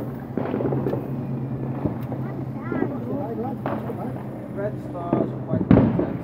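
Fireworks going off outdoors on bonfire night, heard as several sharp pops and crackles scattered through steady background noise, with people talking close by throughout.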